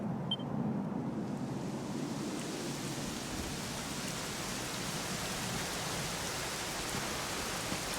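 Steady, dense rain hiss in Dragon Quest XI fills the whole stretch, a constant wash of falling water with no voices and no pauses.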